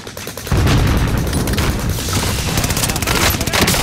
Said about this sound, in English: I'm shooting a guy